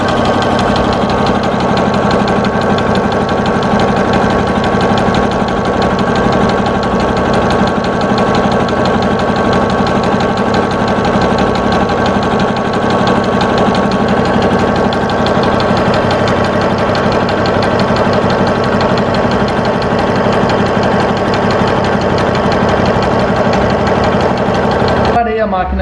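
A domestic sewing machine running a dense satin stitch on fabric, a loud, steady mechanical whir with fast rhythmic needle chatter continuing unbroken throughout, stopping abruptly at the end.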